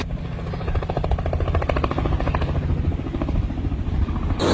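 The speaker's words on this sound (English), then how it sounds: "There's our helicopter." A helicopter arrives to pick up passengers for a ride on New Zealand's North Island. Its rotor thumps and engine roar are loud, steady and close, with no talk.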